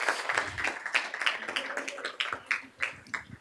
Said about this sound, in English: let's give Sandy a big round of applause